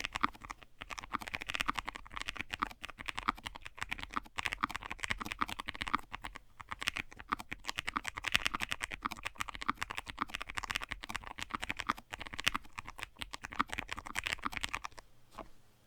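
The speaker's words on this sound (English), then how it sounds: "we're going to do a typing test on it right now" A Chosfox Vero75 mechanical keyboard is typed on quickly and steadily, with dense clacking keystrokes at close range and a brief pause near the end.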